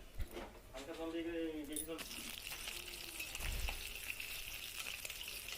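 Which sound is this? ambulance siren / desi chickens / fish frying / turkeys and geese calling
fish frying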